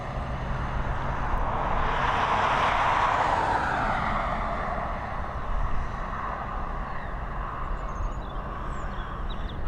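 An airliner departing runway 10R at Dublin Airport roars past on a blustery evening, its broad jet rumble swelling around the middle and then fading into the distance over wind noise.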